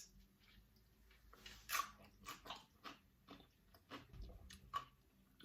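Crisp bites into slices of crunchy homemade vinegar-brined dill pickle, several sharp crunches followed by chewing, close up and otherwise quiet.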